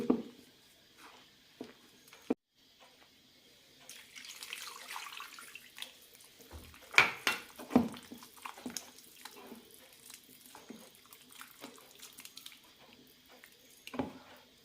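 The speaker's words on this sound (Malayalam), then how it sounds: "കുറച്ചുകൂടി വെള്ളം ഒഴിക്കേണ്ടി വരും" Water runs and splashes into a bowl of semolina dosa batter, with intermittent wet mixing and patting sounds by hand, close and moderately quiet, with a few sharper clinks.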